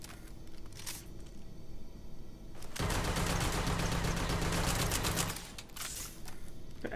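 The full-auto Solstice gun in the Starfield video game fires one loud, continuous burst of rapid shots lasting about two and a half seconds. Quieter game ambience comes before and after.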